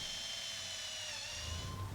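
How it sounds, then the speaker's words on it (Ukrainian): A small drill whines steadily at high pitch for a couple of seconds, close and continuous, drilling holes in a handmade perch fishing lure, with no talking. "Свердлимо отвори"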